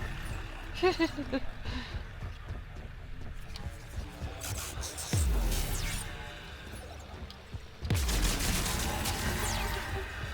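Weapon fire in the video game Mass Effect 3 comes as bursts of sharp, crackling shots, with a heavier blast partway through and another loud burst near the end, mixed with game sounds and voices.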